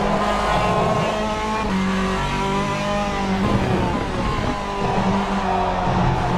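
On-board hypercar engine in a sim racing game at Road America, loud and close, its tone rising through the gears with sharp drops at each upshift and a brief tire squeal, no talking.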